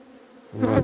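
Honey bees buzzing near hives in a bee pasture, a brief close drone that swells loudly in the final moment after a faint hum.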